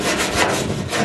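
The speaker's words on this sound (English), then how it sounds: "find an area where the paint is flaking off or you might have a bit of rust, and literally apply the hand brush like so" A wire hand brush scrubs flaky paint and rust off a metal trailer, giving a continuous, close, harsh scraping rasp with no pauses.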